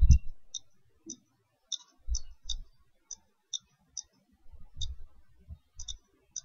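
Keys clicking on a computer keyboard while typing a command, heard as sparse, separate taps spread across several seconds with soft low thumps between them, fairly close and with no voice.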